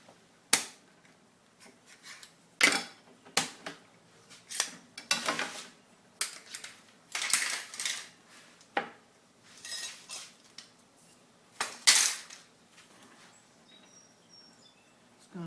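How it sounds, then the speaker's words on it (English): Metal clamps clatter and clink as they are loosened and removed from a glued walnut and ash landing net frame, a series of sharp knocks and rattles with brief pauses between them, close by with no talk. "We'll take some of these clamps off."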